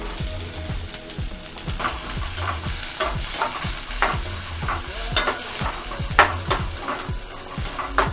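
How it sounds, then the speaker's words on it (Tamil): Steady sizzling of chopped onion sautéing in oil with repeated scraping and stirring of a spatula in a pan, close and continuous. "இதை மட்டும் நல்லா கொஞ்சம் வதக்கிக்கணும்"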